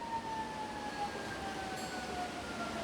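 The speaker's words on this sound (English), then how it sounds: "I hear sirens, but I'm sorry if that bothers you." Fire department sirens wailing somewhere across the city, faint and distant, with rising and falling tones drifting over a low background rumble of traffic.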